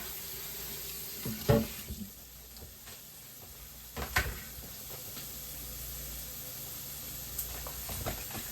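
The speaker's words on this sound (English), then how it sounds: "we got to rinse this off" Kitchen tap water runs steadily over a cutting board used for cutting meat, with a soft rushing hiss and a few clunks and knocks as the board is handled in the sink.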